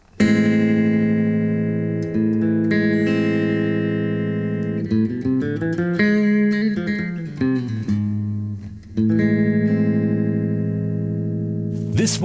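An electric guitar plays the A harmonic minor scale as a run of sustained single notes, rising and falling, with a bright, slightly effected tone.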